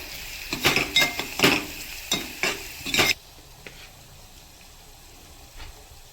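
Browned onion sautéed with turmeric and a pinch of asafoetida in a pan for prawn biryani: several quick, close stirring strokes with a soft sizzle for about three seconds, then near quiet, no talk.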